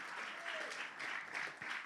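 Applause at a Spanish-language church service, a steady mass of clapping from the congregation lasting about two seconds with slight surges, moderately loud and without clear speech over it.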